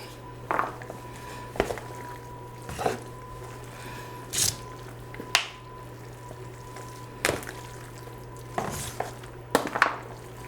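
Baked ziti being stirred and mixed in a pan, with scattered wet squishing scrapes and clinks of a utensil against the pan, close and moderately loud, irregularly spaced over a steady low hum, no talk.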